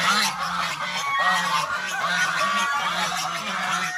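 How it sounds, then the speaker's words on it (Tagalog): A goose honks repeatedly in a steady rhythm of short, nasal calls, close and loud, with birds kept on a mountain farm. "ito, ang ganso natin"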